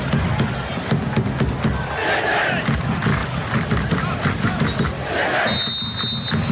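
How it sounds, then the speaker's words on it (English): Sydney FC football fans in a stadium applaud at half-time of a top-of-the-ladder clash, a dense roar of crowd noise and clapping with shouts. "Sydney FC fans stand to applaud"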